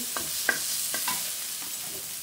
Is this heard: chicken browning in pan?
yes